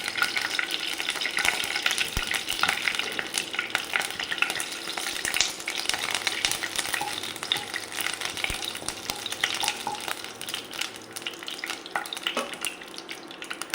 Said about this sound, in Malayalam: നെയ്യ് ചൂടായി വന്നിട്ടുണ്ട് അപ്പോൾ അതിലേക്ക് നാല് ഗ്രാമ്പു ഒരു കഷ്ണം പട്ട ഒരു ഗ്രാമിൻ്റെ എല്ലാം ഉണക്കിയത് അത് നമ്മൾ ഇട്ട് കൊടുക്കും